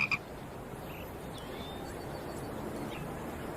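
A frog croaks outdoors, with a couple of quick sharp croaks at the start and then a steady, dense background of croaking and chirping.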